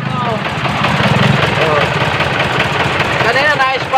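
An engine fitted with a 24-volt alternator runs at a steady idle, a loud, close low rumble with a slight knock, while someone talks over it.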